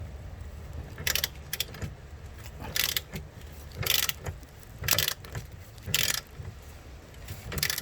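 Ratchet wrench clicking and metal tool noises while loosening tight bolts on the rear suspension of a 2002–2012 Nissan Altima during a rear coil spring job, heard as several bursts of clatter spaced about a second apart, close by with no talk.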